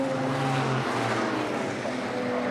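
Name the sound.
BMW E30 race cars passing on track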